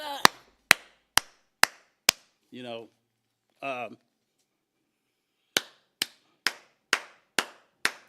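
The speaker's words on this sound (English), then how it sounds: "You hear that hand clap?" Sharp, single hand claps ring out in an even rhythm, five in a row, then a pause broken by two short vocal sounds, then six more crisp claps, close and dry.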